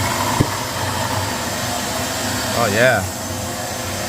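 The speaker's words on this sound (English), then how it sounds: "this tool I make homemade with a shop vac. And I'm gonna suck every fluid with that." A homemade shop vac suction tool, rigged with a mayonnaise jar, runs with a steady motor drone while drawing fluid out during GDI intake valve carbon cleaning, with a brief gurgling swell near the end and a short spoken remark.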